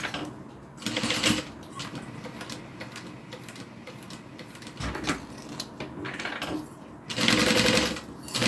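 Sewing machine top stitching white thread on a small change purse, running in short bursts with pauses between, fairly close and moderately loud with no talk.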